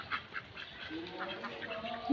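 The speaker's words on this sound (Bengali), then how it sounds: "দেখুন অনেকগুলো হাঁস এখানে" Domestic ducks quack nearby in a loose flock, a steady stream of short overlapping calls with no talking over them.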